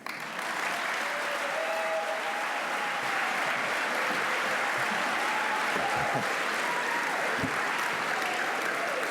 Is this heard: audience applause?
yes